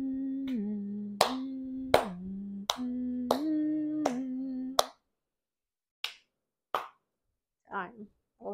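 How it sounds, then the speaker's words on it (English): A person sits clapping their hands while humming during a calming exercise, a sustained hummed tone broken by sharp single claps at roughly even intervals, then the humming stops and a few isolated claps and soft sounds follow. "Sit for 10 seconds while you clap and hum."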